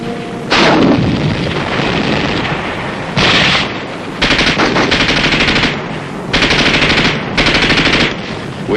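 World War II battlefield combat with machine gun fire and mortar shelling, loud bursts of rapid automatic fire broken by short pauses and heavy booms, heard on their own with no talk.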